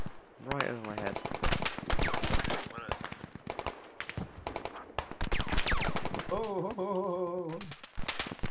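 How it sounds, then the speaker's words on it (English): Rapid bursts of machine gun fire ring out in a video game, some close and some farther off, with players talking and exclaiming over the shooting. "the MG fire is very accurate"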